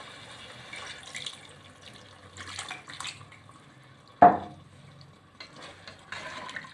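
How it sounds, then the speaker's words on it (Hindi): A single quick splash of a glass of water poured into a pot of mutton and melted tomatoes, loud and close, with soft kitchen clatter around it. "अब मैं इसमें 1 गिलास पानी का डालूंगी।"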